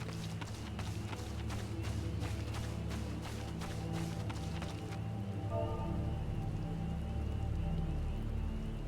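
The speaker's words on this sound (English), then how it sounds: "Every time I play this game, it's raining." Steady rain falls in the video game Final Fantasy XIV, a constant hiss with rapid clicks and ticks during the first half that stop abruptly, leaving a smoother wash of rain with no talk.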